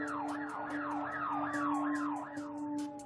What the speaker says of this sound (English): And then they started drowning me out with sirens.